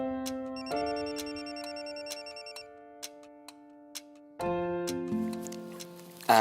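Phone ringtone for an incoming overseas call from a father in Germany: a bright, repeating electronic melody with sustained tones, joined by a fuller, louder ringing passage partway through, with a few soft ticks between.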